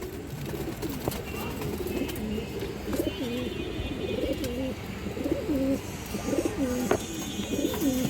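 A female Gia Chulli pigeon with feathered feet coos in repeated low, rolling phrases throughout, close and steady, with faint background noise and occasional other bird chirps.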